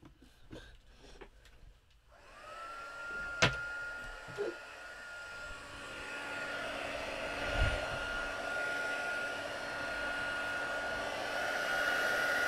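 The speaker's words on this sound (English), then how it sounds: "Let me start my heat gun." Heat gun used for white heat embossing on Christmas cards switches on after a few clicks and runs as a steady, close blowing whine that continues to the end.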